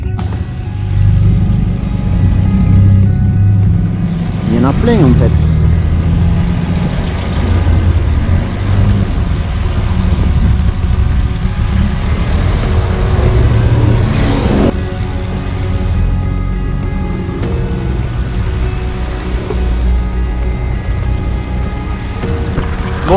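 Old vintage cars rumble past a cyclist at a roadside car festival on a long ride, a steady, close engine drone with a couple of louder passing surges, and someone speaks briefly over it.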